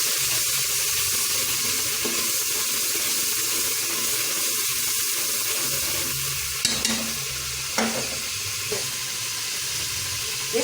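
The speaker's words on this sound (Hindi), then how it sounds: "अब हम यहाँ पे इसको ज़रा सा पानी का छट्टा लगाएंगे।" Golden garlic-ginger paste sizzles steadily in a pan for kofta curry, a dense continuous frying hiss, with a few small clinks and splashes as water is sprinkled in.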